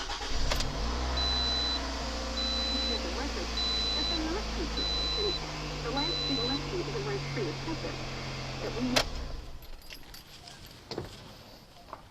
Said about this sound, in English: I'm going to start it up so that the oil filter gets full